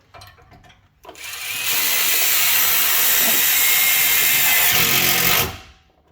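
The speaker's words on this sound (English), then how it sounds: "the little impact drivers are the way to do them" An impact driver driving self-tapping screws during trailer wiring installation on a Ford Bronco whirs and rattles in one sustained burst of about four seconds, loud and close, then cuts off abruptly.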